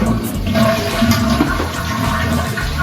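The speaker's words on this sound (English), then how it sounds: "flush the toilet." A household toilet flushes loudly and close by, with a continuous rushing and gurgling swirl of water draining from the tank during a leaky-toilet repair, and no voices over it.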